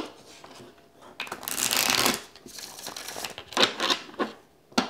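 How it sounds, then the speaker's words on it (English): Tarot cards are shuffled up close in a few quick riffling bursts, with soft handling noises and short pauses between them. "I'm just going to shuffle a couple times here"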